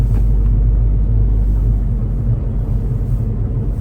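A car engine idles in Canadian winter cold, a loud, steady low rumble heard close up and unbroken for several seconds, with no other sounds.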